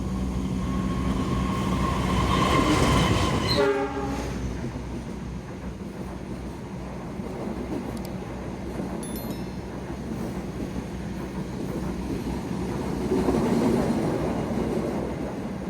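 A train runs along the Jakarta–Yogyakarta line in a steady rumble, with brief wheel squeal and clicking early on, then continuous rolling noise that swells again near the end; no talking.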